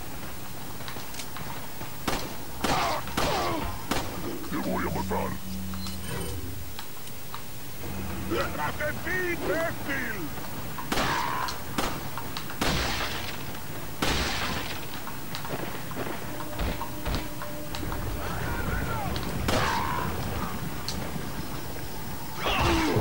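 Gunfire in Resident Evil 4 gameplay: a run of sharp, close shots in irregular bursts, mixed in with a person talking.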